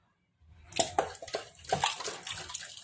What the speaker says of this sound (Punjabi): ਹੁਣ ਆਪਾਂ ਇਹਦੇ ਵਿੱਚ ਪਾਣੀ ਪਾ ਦਵਾਂਗੇ ਜਿਹੜਾ ਆਪਾਂ ਸਾਗ 'ਚੋਂ ਕੱਢਿਆ ਸੀ